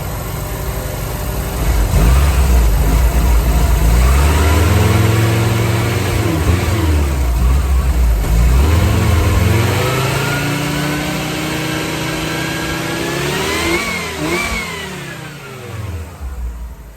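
A car engine runs steadily nearby, its revs rising and falling smoothly in several swells before settling back toward a low idle.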